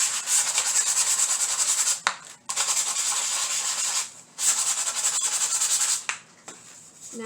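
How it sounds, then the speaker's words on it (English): Sandpaper rubs over wooden craft sticks in close, steady back-and-forth strokes, three long scratchy bursts separated by brief pauses. "Take your sandpaper, and where those staplers were, just sand it down."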